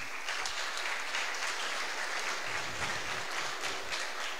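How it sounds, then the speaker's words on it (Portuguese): Applause from a congregation during a church worship service, a steady crowd of clapping hands filling the whole moment at moderate distance, with a few voices faintly mixed in. "Uma salva de palmas para os senhores."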